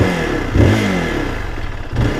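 A Zontes GK350 motorcycle engine idles close by with a deep, throaty rumble and two short revs that swell and settle back to idle. Nobody speaks.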